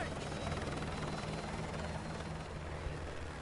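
Helicopter in a video game, a steady loud rotor drone with low rhythmic thumping that holds throughout, close and continuous with faint voice-like sounds underneath.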